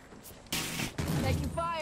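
Gunfire in the tactical shooter Squad, broad bursts of shots loud and close with a sharp onset halfway through, carrying on to the end amid other game noise.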